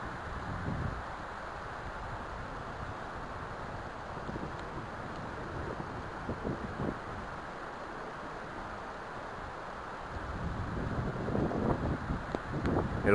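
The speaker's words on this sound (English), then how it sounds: "It'll calm down for a minute and then it'll gust like crazy" Strong wind rushes and buffets at a bushcraft shelter site in the woods, a steady roar that swells into louder gusts toward the end, with no voices.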